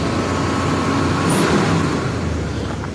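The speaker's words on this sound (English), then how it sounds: "I'll hit the gas and set the choke down." A 1977 Ford Ranchero with a 351 V8 engine revs steadily with the choke set, a loud, sustained close-up roar holding for several seconds with no talking.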